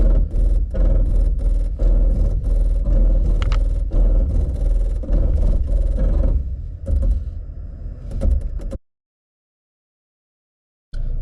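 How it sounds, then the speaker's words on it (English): Loud, steady engine rumble with rough grinding and scraping textures from a Toyota Tacoma TRD Off-Road 4x4 in crawl control at 1 mph, brakes and engine working, continuous for several seconds before cutting to silence, then briefly returning. "That's just the brakes and engines keeping the speed exactly at 1 mile per hour."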